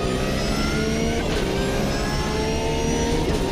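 A Porsche race car in the racing game Automobilista 2 revs hard and continuously, its engine note climbing and holding steady at close range, loud and alone.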